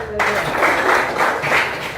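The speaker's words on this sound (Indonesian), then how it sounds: "Oke, tepuk tangan." A classroom of students claps their hands together, a dense burst of applause that starts abruptly and swells in uneven waves, with voices mixed in.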